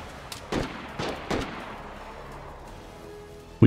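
Gunfire in the survival game DayZ sounds as a few sharp cracks, with three louder shots spaced about half a second apart that trail off into quiet echoes, and no voices.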